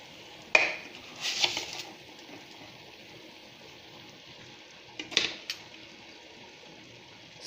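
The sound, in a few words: stirring tomato and chili paste in a pan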